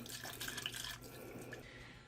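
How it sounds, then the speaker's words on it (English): Chicken broth pouring from a full carton into a soup pot, a brief steady splashing gush of liquid that trails off after about a second, heard alone. "I'm adding in a full carton of chicken broth."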